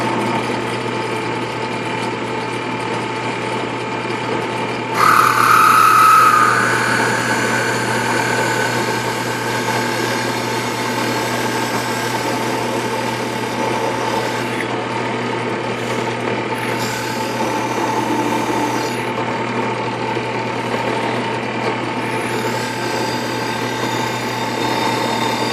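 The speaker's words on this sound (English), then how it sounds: "I'm going to kind of drill a hole into this thing to the approximate depth of the piece that I'm going to inlay." A power tool drills a hole into a wooden piece to the depth needed for an inlay, giving a steady, close mechanical whir that runs without a break from start to finish and grows slightly louder partway in.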